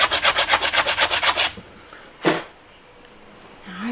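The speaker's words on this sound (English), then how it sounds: "We get some sandpaper on there." Sandpaper rubbed against wooden window trim in quick back-and-forth strokes, about a dozen rhythmic scrapes close by for a second and a half, then one louder single swipe before quiet.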